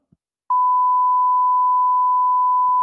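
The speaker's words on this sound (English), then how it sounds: "This is 1000 hertz." A pure 1000 hertz sine tone beep starts abruptly and holds at an even, loud level for more than two seconds in a live electronic music piece.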